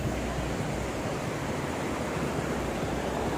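Huai Chan waterfall in Khun Han, Sisaket, Thailand, pours in a steady, dense rush of water that fills the whole scene without pause or voices.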